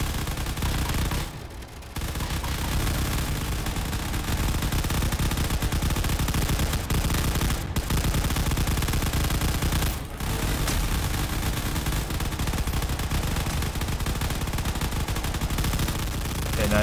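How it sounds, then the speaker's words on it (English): Chain guns on a ship in the game Space Engineers fire in a long, loud, continuous rattling stream, with a few short breaks, close and dominant. "I am using chain guns."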